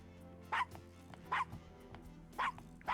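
Game dog in Gabriel Knight: Sins of the Fathers barks four times in a steady spaced rhythm, each sharp bark fairly close over a low background hum.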